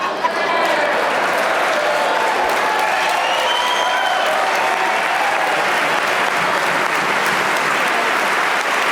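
A legislative chamber audience applauds during a governor's budget address, loud sustained clapping that holds steady for several seconds, with faint cheering lines above it.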